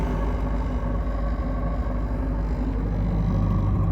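A Triumph TR7 five-speed transmission whines and rumbles in neutral with the clutch pedal out, a loud steady drone with a constant low hum and a harmonic whine, alone with no talk.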